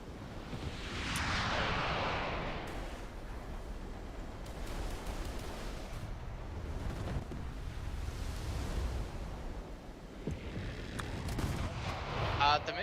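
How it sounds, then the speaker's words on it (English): Missile blasts and gunfire-like booms roll through a video game battle, loud and continuous with rumbling low end and crackling bursts, while a voice speaks faintly beneath. "I didn't see that missile."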